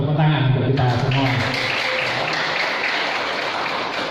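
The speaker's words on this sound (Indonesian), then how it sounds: "Tepuk tangan untuk kita semua." Audience applause at a village community celebration of pomelo growers, broad clapping filling the clip under and after a speaker's voice, steady and fairly loud throughout.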